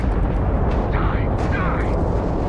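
Gunfire in a Starfield deathmatch against spacers, a dense, steady wall of blasts and rumble with a few brighter zaps layered on top, loud and unbroken throughout.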